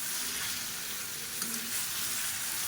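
Marinated chicken pieces frying in a pan for a chicken fry, giving a steady, close, broadband sizzle that holds evenly throughout with no talking.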